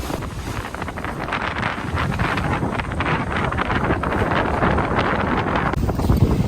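Wind at sea aboard a sailing boat, loud constant buffeting rushing across the microphone with wash of water underneath, steady for several seconds.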